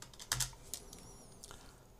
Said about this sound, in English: So press tab and type